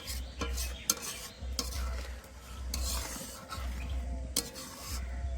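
Carrot kheer, a milky carrot pudding, stirred in a pan on the stove, with repeated scraping strokes of a spoon against the metal over a soft simmering sizzle, close and alone with no talk.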